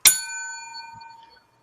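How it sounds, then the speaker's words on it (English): A bright bell is struck once, its clear metallic ding ringing out and slowly fading over about a second and a half, alone with no talking. "do the other bell, the second bell 3 times quick, like ding, ding, ding, ding"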